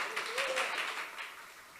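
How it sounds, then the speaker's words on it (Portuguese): Church congregation applauding at a service, a soft, steady patter of many hands clapping at moderate distance, with a voice speaking faintly over it. "Dá uma oferta de palmas ao Senhor."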